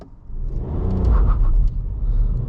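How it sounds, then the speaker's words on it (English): A Toyota Aygo X car launching hard from a standstill, its engine rumbling loud and close and rising in strength, with a brief tyre squeal over the continuous road noise. "Bit of tyre squeal."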